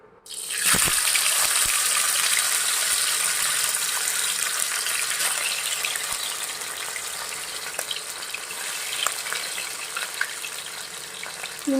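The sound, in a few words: fish frying in hot oil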